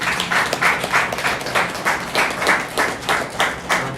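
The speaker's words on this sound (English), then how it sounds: "So give yourselves a round of applause." A graduation ceremony audience applauds with loud, sustained clapping that pulses in a steady rhythm, with no talk over it.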